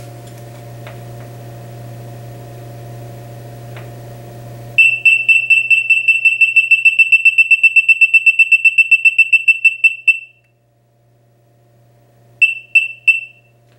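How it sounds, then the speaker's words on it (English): A 105-decibel low-voltage alarm on an on-board battery charger beeps in a fast, even series of piercing electronic tones over a low hum, stops, then gives three more beeps. "The alarm is 105 decibels and can be heard even in noisy working environments."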